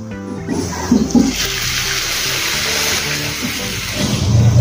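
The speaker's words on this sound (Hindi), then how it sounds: "अब इसमें हम पानी डालेंगे" Water gushes into a cooking pan of bharwa baingan (stuffed eggplant), splashing steadily for a few seconds, a loud rushing pour with no talking.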